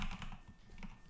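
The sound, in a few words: typing on a computer keyboard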